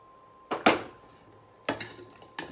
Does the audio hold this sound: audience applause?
no